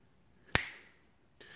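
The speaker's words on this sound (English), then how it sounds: "when I snap my fingers, I can't get movie magic to work" A single sharp finger snap, close and crisp, with a short ringing decay, followed by a fainter second snap near the end; no talking.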